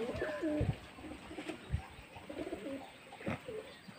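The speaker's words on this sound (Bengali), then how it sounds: "দেখুন পায়রা বসা এসব" Pigeons perched at a loft give a few low throaty coos close by, in short bursts separated by brief pauses, with faint rustling and a couple of soft knocks between calls.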